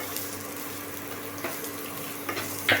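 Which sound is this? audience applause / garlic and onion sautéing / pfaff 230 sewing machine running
garlic and onion sautéing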